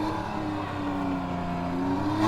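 A Porsche 911 2-liter coupe engine, heard in a museum, holds a steady, even drone at moderate loudness that swells slightly near the end.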